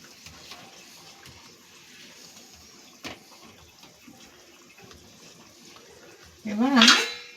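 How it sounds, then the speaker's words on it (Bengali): Potato and papaya curry broth bubbling in a cooking pot, a steady low seething simmer close by, with a sudden louder burst of sound near the end. "ঝোলটা ফুটতে শুরু করে দিয়েছে।"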